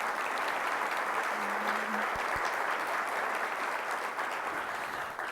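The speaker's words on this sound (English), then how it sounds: "Let's give them another round of applause." A crowd gives a steady round of applause for musical performers at an association event, dense clapping that holds at an even level throughout, with a brief low tone partway through.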